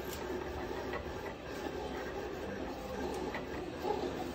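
A Roland GX-24 vinyl cutter runs steadily, a continuous mechanical whir with faint ticking as the blade works through vinyl, heard up close and alone.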